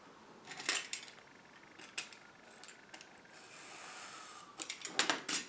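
A craft knife or blade cutting along a line while building a model railway, giving soft scraping and rubbing strokes with a few sharper clicks, faint and close up, with no talking.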